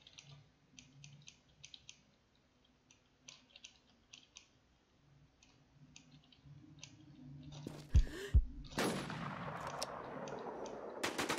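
Gunfire in the survival shooter Infestation: The New Z during a PvP fight in Clearview: scattered faint clicks and shots early on, then several loud, close shots around the end, followed by a sustained noisy burst.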